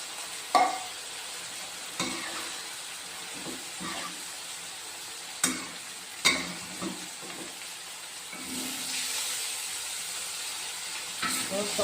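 River fish frying in a pan with a little water added, a steady hiss and sizzle with scattered clinks and stirring scrapes, the sizzle swelling louder near the end.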